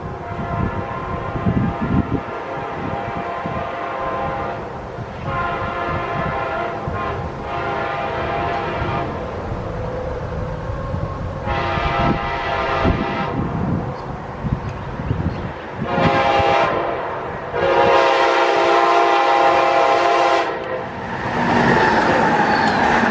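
A passenger train led by a Phase 7 locomotive rumbles past while its horn sounds in several long blasts, loud and near, over steady rail noise.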